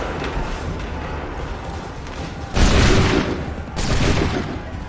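Massed musket volleys ring out in Assassin's Creed 3, two loud crackling bursts of gunfire about a second apart over a dense battlefield rumble, with no one talking during the shots.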